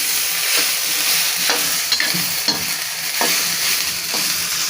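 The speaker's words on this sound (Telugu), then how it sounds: "ఇంకా కొద్దిగా వేయించాలి" Cluster beans (gokarakaya) frying in oil in a pan, a loud, steady sizzle up close with rhythmic stirring scrapes every second or so, no voices.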